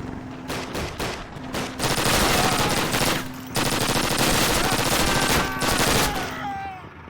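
A PPSh submachine gun rattles in long, loud automatic bursts during a World War II Berlin push toward the Reichstag in Call of Duty, with brief pauses between strings of rapid fire and faint whistling effects near the end.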